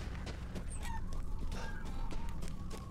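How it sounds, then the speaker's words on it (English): Hens and roosters cluck and call in a farmyard in the video game Resident Evil Village, with several short fowl calls and honks over a steady low ambient rumble, with no talking. "Here's some hens and cocks here."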